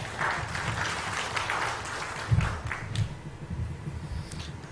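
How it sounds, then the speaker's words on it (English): A conference audience at a smart-cities event in Goa applauds in a hall, continuous mid-distance clapping with a few louder swells that thin out toward the end. "and a round of applause."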